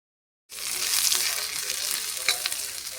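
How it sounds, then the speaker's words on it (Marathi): Sliced onion and a small garlic bulb frying in a pan, a steady close sizzle that starts abruptly after a brief silence and holds through, with a few stirring clicks and no talk. "मी आता इथे अर्धा कांदा चिरून, उभा कांदा चिरून भाजत घातला आहे"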